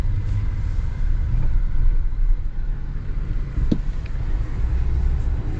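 A 2025 Chevy Silverado ZR2 Bison diesel pickup rolls along, its cabin filled with a steady low road rumble and engine drone, with a brief soft thump as it crosses a small bump.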